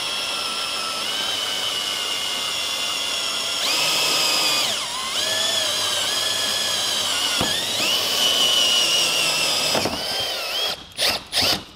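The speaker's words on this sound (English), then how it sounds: "when you're using a hole saw, you wanna start really slow and let the blade do all the work" A drill fitted with a hole saw cuts through metal while a tow base plate is mounted on a 2020 Honda, starting slow and rising in speed, a loud whining grind with squealing tones that ends in a few short bursts.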